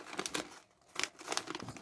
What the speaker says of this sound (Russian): Поэтому вот для видеообзора открываю второй пакетик.